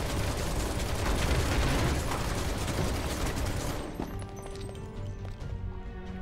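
Barret's gun arm firing in Final Fantasy 7 Remake, a rapid sustained stream of mechanical shots that cuts off partway, leaving quieter clicks and ambient game sounds.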